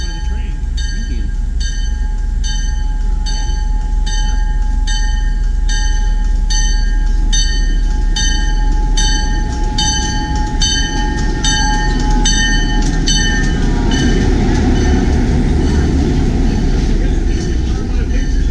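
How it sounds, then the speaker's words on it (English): A New Hope Ivyland Railroad heritage train rolls steadily past at close range, its wheels clicking rhythmically over rail joints beneath a constant low rumble, with a faint squeal building toward the end. "Don't get hit by the train."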